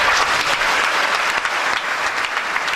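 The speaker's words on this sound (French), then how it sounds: "Des applaudissements nourris émanant d'un auditoire visiblement conquis." Sustained, dense applause from a conference audience at an institutional event, a steady roar of many hands clapping continuously with no pauses or voices over it.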